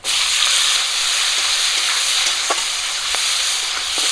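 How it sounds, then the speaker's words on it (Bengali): Chopped onion frying in hot oil with bay leaf, cinnamon, cardamom and cloves, a loud continuous sizzle close by, broken by a few soft stirring scrapes. "পেঁয়াজটাকে একটু ভাজা করে নেব হালকা পেঁয়াজ একটু লাল করে ভেজে নিয়েছি"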